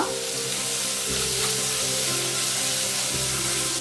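Tomato and okra stirred in a frying pan for a no-coconut okra yogurt curry, giving a steady, close sizzle with soft scraping stir strokes throughout and no talk.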